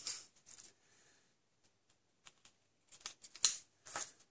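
Scissors trim patterned craft paper for handmade Stampin' Up daisy cards, giving a few quiet scattered snips and rustles with pauses between, the sharpest cut near the end.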